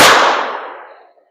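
One sharp, loud crack from a Kel-Tec Sub 2000 carbine firing a 27 grain 5.7 round rings out alone, its echo fading away over about a second.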